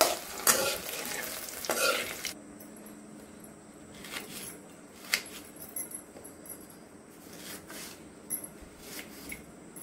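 Mushrooms fry in a pan with a soft, steady sizzle, punctuated by sharp scraping stirs near the start, then continuing as quiet crackling with occasional light utensil clicks.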